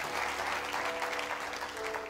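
A church congregation applauds steadily, a warm, even wash of many hands clapping together that holds at a constant level before cutting off sharply at the end.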